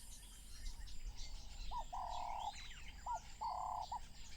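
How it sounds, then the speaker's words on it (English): Birds calling at a marsh in southern Africa at sunset, with a few short clear whistled calls in pairs and faint chirps over a low steady ambient hum. "At sunset, as the temperature falls, the wading birds join the scene."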